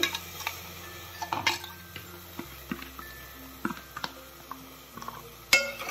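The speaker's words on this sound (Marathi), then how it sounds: "आणि हे पण छान ढवळत राहायचं" A spoon stirs and scrapes a chili, ginger and garlic paste with browned onions in a pan, making close, irregular clinks and taps of metal on metal.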